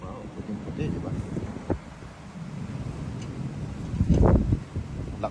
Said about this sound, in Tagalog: Lakas din po ng hangin.